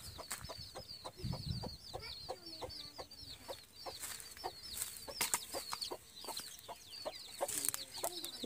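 Chicks cheeping in a small backyard coop, with repeated high-pitched chirps over clucking hens close by, no talking.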